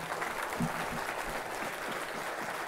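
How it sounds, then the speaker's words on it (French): Applause from an audience at a conference on schools in a hall, a dense steady wash of clapping that fills the whole stretch at even loudness, with no speech over it. "Oui, vous pouvez les applaudir."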